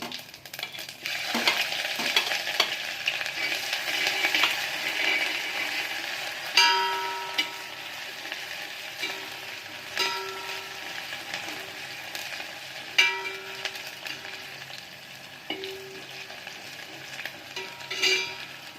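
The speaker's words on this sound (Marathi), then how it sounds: "हे बघा आपलं तेल तापलेलं आहे मी मोहरी टाकत आहे जिरं लसूण आणि आलं टाकणार आहे" Mustard seeds, cumin, garlic and ginger frying in hot oil make a steady, close sizzle, with crackling pops and occasional clinks of a spoon stirring the pan, and no voices.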